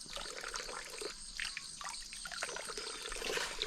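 Water trickling and splashing steadily as a child washes hands at a natural drinking-water source in a village in the morning, a continuous light pouring sound with small splashes throughout.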